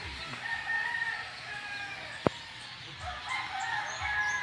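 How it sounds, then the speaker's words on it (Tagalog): Birds call repeatedly in an open outdoor space, rooster-like crows and clucks mixed with a sharp single knock midway. "Ang daming ibon, mga katropa. Grabe."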